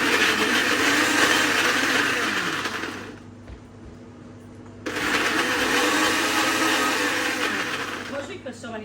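A blender whirs loudly as it purées strawberries for a strawberry daiquiri, running for a few seconds, cutting out briefly, then roaring again before easing off.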